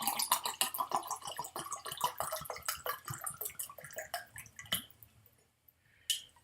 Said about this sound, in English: That's water from a Eagle Rare bottle, which I finished recently.